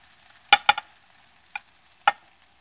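Sliced lemon hitting a frying pan for lemon chicken, heard as a quick cluster of three sharp clatters followed by two more isolated clinks, with only a faint sizzle in between, close and fairly loud.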